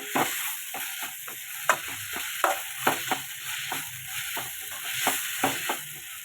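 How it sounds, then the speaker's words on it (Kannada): Cumin seeds frying in a pan for tomato bath, a light steady sizzle punctuated by a regular series of spoon scrapes and taps as the seeds are stirred. "ಇದೆಲ್ಲ ಹಾಕ್ಕೊಂಡು ಚೆನ್ನಾಗಿ ಫ್ರೈ ಮಾಡ್ಕೊಬೇಕು."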